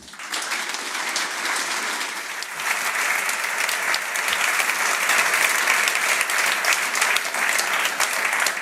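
Conference audience applauding a speaker, Vitaly Friedman, giving a dense, continuous clapping that swells slightly and holds steady throughout.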